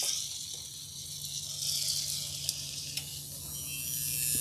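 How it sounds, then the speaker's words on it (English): Food sizzling on the grill of a solar cooker, a steady, soft hiss of frying with a couple of faint clicks, heard at close range without talk. "Oh yeah, hear the sizzle?"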